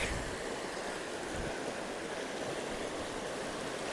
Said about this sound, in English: Big old river I'm gonna cross.